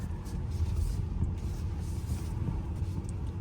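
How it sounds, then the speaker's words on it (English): Tire roar from an electric car rolling along the road, a steady low rumble heard from inside the cabin, continuous and fairly loud with no talk over it. "You can hear the tires."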